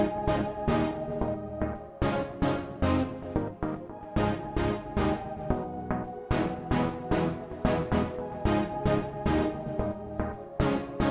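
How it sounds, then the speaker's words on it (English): Punchy synth brass stabs chords in a tight, repeating rhythm beneath a sustained high synth pad, loud and steady throughout the pop production. "I'm going to play that with the synth brass so you can kind of hear."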